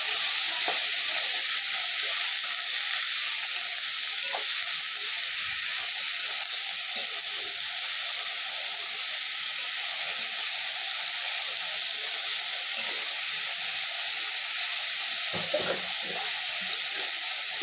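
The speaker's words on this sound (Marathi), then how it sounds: "एक दोन मिनिटं चांगल्या परतून घ्यायच्या तेलामध्ये शेंगा चांगल्या परतलेल्या आहेत" Green beans sizzle in hot oil in a pan on the stove, a steady close frying hiss with faint stirring scrapes, no voices over it.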